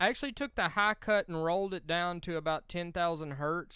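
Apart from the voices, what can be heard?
None of the usual background noises is heard.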